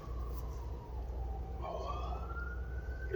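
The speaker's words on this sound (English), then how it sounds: "Yeah, we got ambulances going by" Ambulance siren passing by a home workshop, a steady wail sweeping up and down over a constant low hum, fairly loud throughout.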